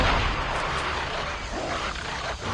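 Gunfire in the Call of Duty Black Ops battle royale mode, a dense continuous roar of shots and distant blasts sustained across the whole stretch without clear gaps.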